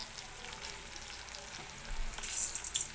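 Chana dal sizzling and frying in hot oil in a pan, a steady soft crackle that grows louder and busier toward the end, with sharper pops near the close.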